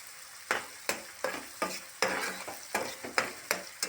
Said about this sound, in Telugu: బాగా వేపుకోవాలి